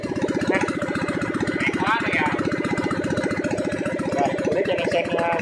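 A Kubota GZ460 mower engine, converted from fuel injection to carburetor, idles with a fast, steady chugging pulse, close and continuous, with faint background chatter.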